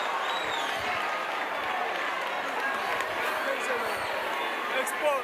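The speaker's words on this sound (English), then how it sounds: "Let's give him a round of applause." Audience applause at a youth week event in the Vaal, a steady broadband wash of clapping and crowd noise that holds for about five seconds with voices mixed in.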